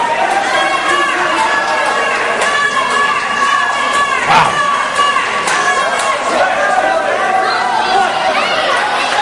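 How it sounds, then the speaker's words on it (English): Wrestling crowd in Winnipeg, Manitoba, cheering and chattering at a live independent match, a loud continuous roar of many voices filling the hall with scattered shouts rising over the din. "The crowd is sure showing their appreciation."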